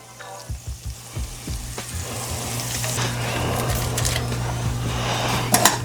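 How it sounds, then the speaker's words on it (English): A steak sizzles in a hot pan, with a few sharp thumps and clatters as it goes in, then a steady broad hiss of frying that builds and holds close and loud, no talk. "We're gonna go down with our steak."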